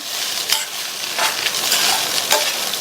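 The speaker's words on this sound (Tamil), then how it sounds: "இந்த அவல் உருளைக்கிழங்கு ரெண்டும் நல்ல ஒன்று சேர்ற மாதிரி கலந்து கொடுத்துக்கலாம்" Aval (flattened rice) and potato stirred together in a pan over low heat for upma, a steady soft scraping hiss with a few louder spoon strokes, close and alone.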